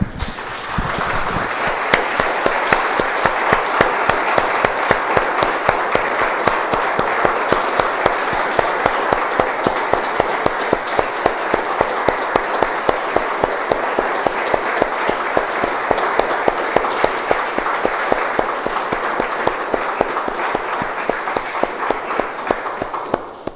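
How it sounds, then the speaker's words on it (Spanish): A church congregation applauds in praise after a prayer, a dense, steady wash of many hands clapping that carries loud and even for over twenty seconds, with no voices on top. "Damos un aplauso, hermanos, al Señor."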